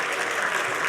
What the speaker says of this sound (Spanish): Más fuerte ese aplauso, con ganas.